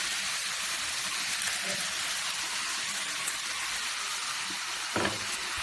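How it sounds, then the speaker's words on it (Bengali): Pumpkin greens with mustard and poppy seed sizzle steadily in a pan while being stirred, a continuous close frying hiss with a brief louder scrape near the end. "একটু সর্ষে আর পোস্ত দিয়ে শাকটা নাড়াচাড়া করে নিন।"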